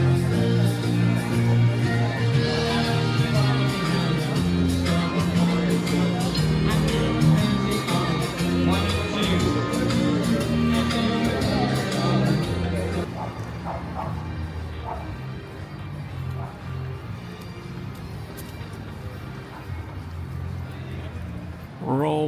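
Crowd hubbub fills Benidorm's busy Avenida Filipinas near the bars: a loud, dense wash of many voices and dogs barking, with people talking close by, thinning out somewhat in the later part.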